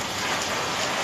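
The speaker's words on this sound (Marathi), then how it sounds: "आज खूप पाऊस पडतोय, तर खूप सकाळपासून खूप पाऊस पडतोय" Heavy rain pours down in a dense, unbroken wash of hiss and patter, loud and close, with no voices.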